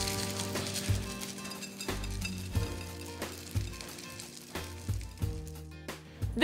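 Bacon fries in a pan with a steady sizzle. Sharp utensil clinks and scrapes recur every second or so, close up and with no talking.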